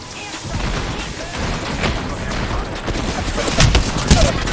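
Bursts of gunfire crackle through a busy Apex Legends firefight, with several sharp shots near the end over dense game noise.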